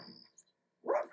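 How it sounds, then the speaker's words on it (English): Cartoon dog Pluto gives a short yip and then a couple of quick, close barks after a brief pause. "Good dog. Down, Pluto, down."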